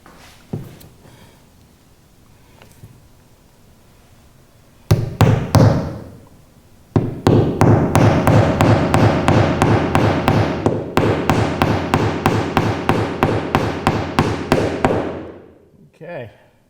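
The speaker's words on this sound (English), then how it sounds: "and hammer it home." A small wooden block is hammered into place on the skeg of a wooden Whitehall pulling boat, heard as a few scattered knocks followed by a long rapid run of sharp, loud, evenly spaced hammer blows that taper off.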